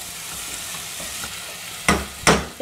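Tomatoes frying with garlic, ginger and onion in a pan for a peas masala gravy, a soft steady sizzle broken by two loud close scraping stirs near the end.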